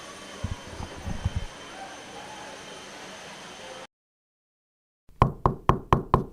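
Knocking sound effect opening a radio advertisement, five sharp, loud knocks on a door in an even rhythm, coming right after a brief silence and standing alone.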